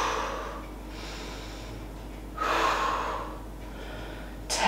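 A woman exercising with dumbbells while wearing her baby breathes out hard in three or four breathy puffs, spaced a second or two apart and close to the mic.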